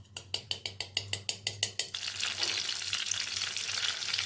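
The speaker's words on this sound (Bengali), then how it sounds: "কড়াইয়ে দিয়ে দিয়েছি আমি সাদা তেল, আর এর মধ্যেই এখন আমি দিয়ে দিচ্ছি বাটার।" Butter goes into hot white oil in a wok, about a dozen rhythmic clicks of stirring, then a steady bright sizzle that carries on alone at close range.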